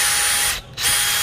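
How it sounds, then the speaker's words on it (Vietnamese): A Dewalt two-speed cordless drill with a 5Ah battery runs at a loud, steady high whine, close up. The whine drops out briefly mid-run, then resumes at full speed. "Khoan tường, khoan gỗ, khoan sắt."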